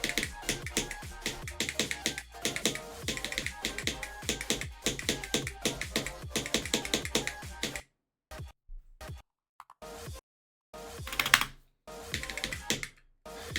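Fast, steady clicking of a computer keyboard goes on close up, then breaks into short bursts of keystrokes separated by silent pauses.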